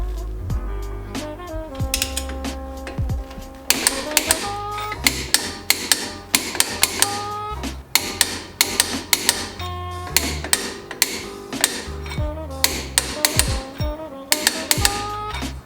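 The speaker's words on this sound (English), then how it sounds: "now I'm going to go back through and torque them all in the crisscross pattern to 100 pounds." Torque wrench tightening car lug nuts in a crisscross pattern to 100 pounds during a wheel spacer install, with repeated sharp ratcheting clicks and metallic snaps in bursts, close and fairly loud, with no talking.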